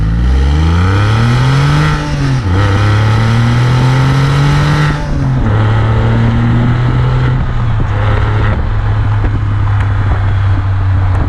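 A sports car engine revs hard up close, its pitch climbing in loud surges and dropping back between shifts before settling into a high, steady snarl.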